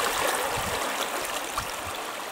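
Water of the Razdolnaya river at Pokrovka churns and rushes steadily, a continuous broadband gurgling flow with no voices, close and even in loudness throughout.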